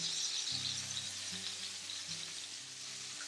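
Sausage patties fry in a pan with a soft, steady sizzle, while a low hum with shifting tones runs underneath throughout.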